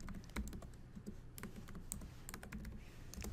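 Rapid, steady keystrokes on a computer keyboard as login credentials are entered, a dense run of close clicks and taps lasting about three seconds with no voices.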